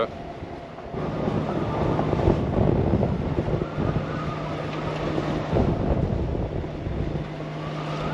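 Strong wind buffets the microphone in a continuous low roar that rises and falls in gusts, with no clear voices over it.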